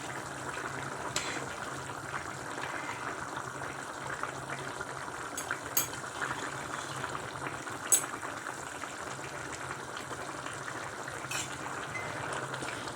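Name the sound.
broad bean stew cooking in pot, being stirred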